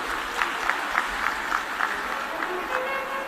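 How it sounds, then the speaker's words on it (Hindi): Crowd at a Shiva katha religious discourse in a packed pandal breaks into loud, rhythmic clapping, steady pulses of applause repeating across the whole stretch, with faint talk underneath. "जोरदार ताली बजाएं"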